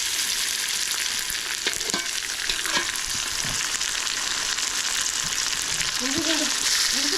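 Onions and ginger garlic paste sauté in a hot pan, a steady close sizzle with occasional scraping stirs, and a voice briefly heard talking near the end.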